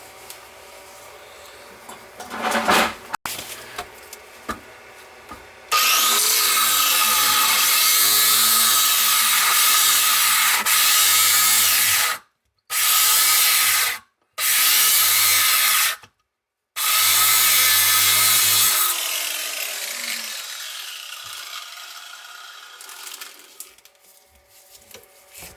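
A power tool cuts a part under a leaking bathroom sink drain, running loud and steady for several seconds with a few brief stops and restarts, then winding down.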